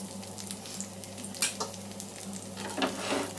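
Bitter gourd pieces fry in oil on a flat pan, a continuous soft sizzle with a few louder crackling bursts up close.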